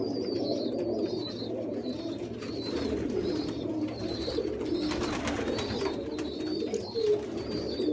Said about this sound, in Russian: Когда будут гудеть голуби